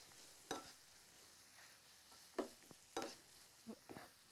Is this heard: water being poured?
no